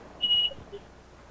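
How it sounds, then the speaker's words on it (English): A mobility scooter cart in a store gives a single short, steady electronic beep while reversing, close by and clear, with faint background noise after. "it beeps a lot when I back up to go."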